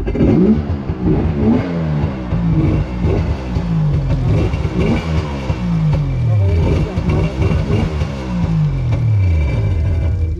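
A jet ski engine sputters to life and revs in repeated rising and falling surges, loud and close, with a voice talking intermittently underneath.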